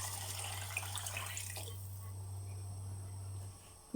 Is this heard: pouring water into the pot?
yes